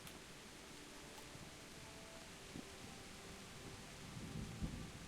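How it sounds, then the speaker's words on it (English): Soft, distant thunderstorm in the video game Kingdom Come Deliverance, with steady rain hiss and faint low rumbles of thunder swelling near the end, quiet throughout with no talk. "There's a thunderstorm. It's not just rain, it's thunder."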